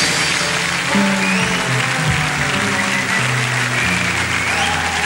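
Audience applause follows a drum solo, a dense continuous clapping wash with tonal music or ringing notes underneath, holding steady for several seconds.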